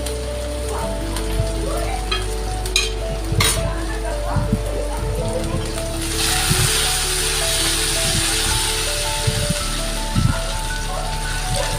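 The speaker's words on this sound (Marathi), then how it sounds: "आलं, लसूण आणि हिरवी मिरची टाकूया बारीक चिरलेली. मस्त असं परतून घेऊया." Finely chopped ginger, garlic and green chilli sauté in a hot pan with a steady, rain-like sizzle, with clinks of a utensil and a few light knocks over the frying hiss, near and moderately loud.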